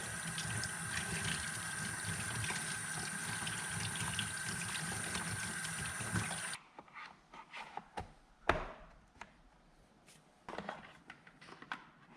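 Water runs steadily over a Stihl MS260 chainsaw bar to wash off dirt, a loud continuous hiss and splash that stops abruptly partway, followed by quieter drips and handling knocks.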